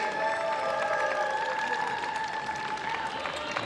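A home crowd in Winter Haven, Florida, applauds and cheers at a Major League Table Tennis match: sustained, dense clapping and crowd noise with no break, and a faint tonal layer underneath.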